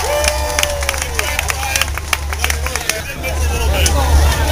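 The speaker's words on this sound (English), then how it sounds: "Give all of our contestants a great round of applause." Crowd at a cream puff eating contest at the Wisconsin State Fair applauds and cheers the contestants, a loud outdoor hubbub with scattered claps and voices over a steady low rumble.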